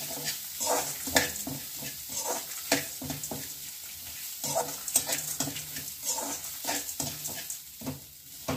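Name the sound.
grated coconut being roasted and stirred in a pan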